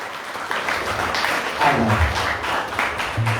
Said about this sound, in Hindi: चलिए एक और बार शानदार तालियों से उनको धन्यवाद देंगे।